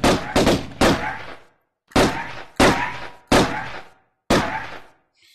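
Seven sharp, loud gunshots from a Tomb Raider VR game: three quick blasts, then four more spaced about a second apart, each ringing briefly before the next, with no talking.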